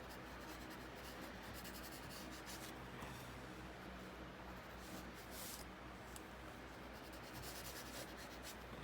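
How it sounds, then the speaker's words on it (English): Pencil held on its side, shading broadly across paper with steady soft rubbing strokes, a continuous close scratchy whisper with slight rhythmic swells and no talking. "putting my pencil on its side"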